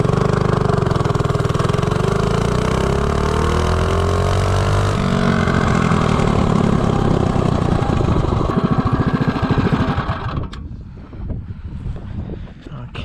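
A Ghost 212 minibike engine fitted with a 24mm Nibbi carburetor pulls hard from 0 to 30 in a loud, steady climbing drone. It cuts off near the end, leaving wind buffeting and quieter mechanical noise.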